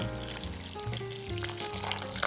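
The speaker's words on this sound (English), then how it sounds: "Pour the heavy cream all over the chocolate" Heated heavy cream poured over chocolate for a cake, a short, close liquid pour with soft gurgling and splashing, heard alone with faint background music.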